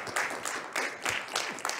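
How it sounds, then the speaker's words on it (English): A studio audience claps for a guest on a talk show, short bursts of applause rising and falling in a steady rhythm, moderately loud and close. "Round of applause for Tammy Robert."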